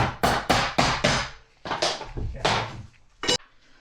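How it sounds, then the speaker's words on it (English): A hammer strikes a pull bar to lock a vinyl floor plank into place, giving about eight sharp knocks in an uneven rhythm that starts with a quick run of four blows, then slower hits and a final single strike close by. "and then hammer it"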